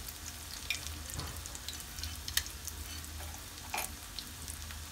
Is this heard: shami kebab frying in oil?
yes